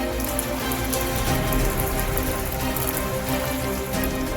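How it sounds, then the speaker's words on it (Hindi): Rain falls steadily in Sri Ganganagar, a dense, even hiss of drops on surfaces, loud and constant for a few seconds with no voices. "श्रीगंगानगर में रुक रुक कर हो रही बारिश ने गर्मी से राहत दी।"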